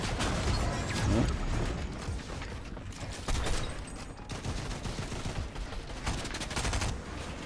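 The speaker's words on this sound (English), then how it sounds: "Finally using an AR a bit." Sustained assault rifle fire sprays in Fortnite, dense overlapping shots running continuously at steady loudness with mechanical clatter mixed in, no voices over it.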